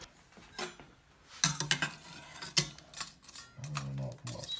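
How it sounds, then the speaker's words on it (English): Bacon is being stirred into rabbit pieces in a pot, giving close, intermittent clinks and scrapes of a utensil against the pot, with brief pauses between bursts. "let's add this bacon to this. And I'll stir that up."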